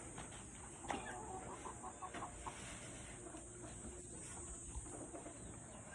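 Pullets being moved at a gamefarm cluck faintly and sporadically under a steady background hiss and hum, with a few brief soft clatters.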